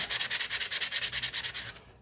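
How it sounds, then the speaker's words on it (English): A sanding block rubs back and forth over glitter on a small craft piece in quick, even strokes, close by and steady, then stops. "When you need to sand off the glitter"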